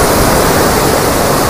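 Flood water roars through dam gate number 62, one of 63 opened gates, in a dense, steady, loud rush of broadband churning noise with no break.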